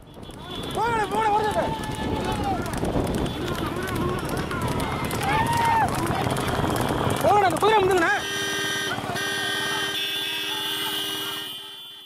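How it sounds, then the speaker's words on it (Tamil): Horses and bulls pull carts at full gallop in a race in Tamil Nadu. Rapid, dense hoofbeats and rumbling run steadily throughout, under loud shouting voices, then the sound thins toward the end. "3 பிரிவுகளாக நடத்தப்பட்ட போட்டியில் மாடுகளும் குதிரைகளும் இலக்கை நோக்கி விரைந்தன"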